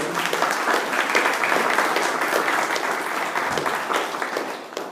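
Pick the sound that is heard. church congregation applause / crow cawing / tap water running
church congregation applause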